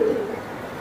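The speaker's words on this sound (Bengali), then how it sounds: "নটটাও খুবই সুন্দর কবুতর।" A single short, low coo from a pigeon sounds close by at the very start, then fades into quiet background.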